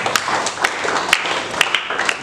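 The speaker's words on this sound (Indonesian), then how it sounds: "Kita tepuk tangan buat Tuhan Yesus" A church congregation clapping for Jesus during a sermon, a brief burst of sharp, fairly rhythmic hand claps with distinct individual hits standing out over a busy room murmur.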